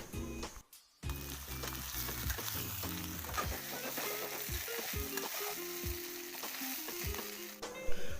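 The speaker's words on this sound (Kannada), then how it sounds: "ಮಾಡಿದ ಪತ್ರವಡೆ ರೋಲನ್ನು ಈ ಬಾಣಲಿಲಿ ಹಾಕ್ಕೊಂಡು ಚೆನ್ನಾಗಿ ಒಂದು 5 ನಿಮಿಷ 10 ನಿಮಿಷ ಚೆನ್ನಾಗಿ ಹುರ್ಕೋಬೇಕು" Patrode, colocasia-leaf rolls, frying in a pan give a loud, steady sizzle from start to finish, with occasional stirring scrapes and a brief dip near the first second.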